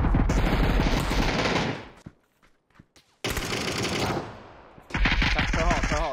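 Rapid automatic rifle fire in PUBG rattles in two loud, close bursts separated by a near-silent gap with a few faint pops, then a third burst starts, with no talking.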